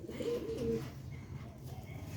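Sialkoti pure old slate-grey pigeons coo in soft, low, rolling murmurs, fairly faint and steady, with no talking over them.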